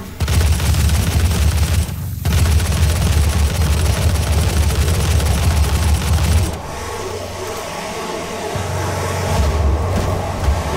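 Continuous heavy gunfire from Doom (2016), with dense loud bursts of rapid shots over rumbling low booms for about six seconds, then a slightly quieter stretch of ongoing shooting and mechanical din.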